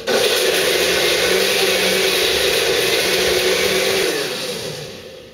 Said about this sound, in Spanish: Vamos a licuar entonces la naranja y la toronja.